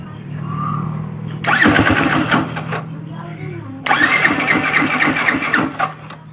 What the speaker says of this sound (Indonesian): Langsung terkoneksi, motor langsung menyala.